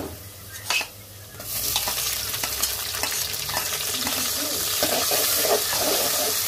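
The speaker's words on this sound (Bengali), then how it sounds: "চিংড়ি মাছগুলো ভালো করে ভেজে নেব।" Prawns fry with onion in hot oil, a steady close sizzle that swells after a brief stir-scrape and continues with occasional spatula clinks.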